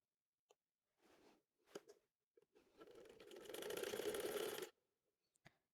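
A sewing machine stitches a pocket seam on ladies' pants, faint and close, running in a short burst, then a longer run that grows steadier before stopping, with small clicks between.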